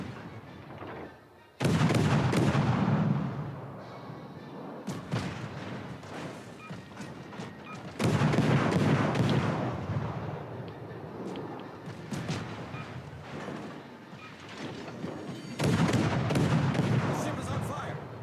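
Ship's guns firing in a naval video game: three loud booming salvos several seconds apart, each a sharp blast trailing into a long rumbling roll of further shots and crackle, with a voice talking between them.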